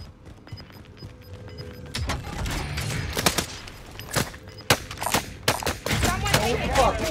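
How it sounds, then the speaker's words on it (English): Gunfire in Call of Duty: Warzone, with scattered nearby shots and short automatic bursts crackling irregularly over a busy background, with a voice briefly heard. "we're getting shot at"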